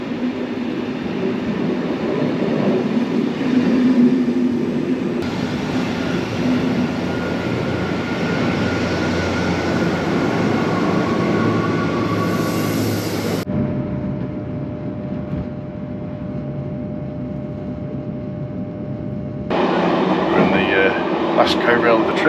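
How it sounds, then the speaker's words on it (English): An AGC regional train pulls into a station with a loud, sustained rolling rumble and shifting tonal whines, the sound changing character several times as it arrives; a voice talks over it. "There's the AGC that's coming in now."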